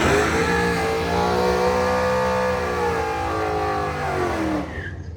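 Cars launch and accelerate hard down a quarter-mile drag strip, among them a Supra and a 5.0 Mustang. The engines roar loud and steady, pitch climbing through the gears for several seconds before fading toward the end.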